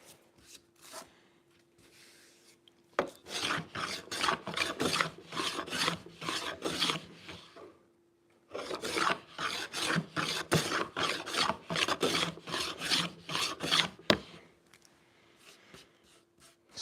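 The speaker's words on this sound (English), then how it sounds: "we're actually getting a little bit increasing in this crack here as we're planing, as we're lowering the surface" Hand plane shaving a figured wood surface, producing a rapid run of close, rasping strokes in two sustained bursts separated by a short pause, then tapering to quiet.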